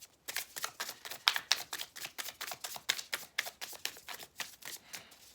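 Decks of playing cards are shuffled in a quick, steady run of crisp riffling clicks that repeat for several seconds, close and fairly soft, with no voices.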